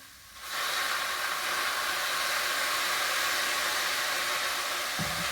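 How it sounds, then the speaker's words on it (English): A pan of kale hisses loudly as champagne vinegar is poured in to deglaze it, a steady broad sizzle that starts abruptly and holds at full strength with no talk. "I am going to deglaze with a little bit of champagne vinegar"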